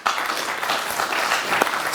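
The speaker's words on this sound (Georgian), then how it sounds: "აპლოდისმენტები ბატონო იაგოს." Studio audience applauding a contestant on a Georgian comedy game show, a steady dense wash of clapping that stays loud and continuous throughout with no voices over it.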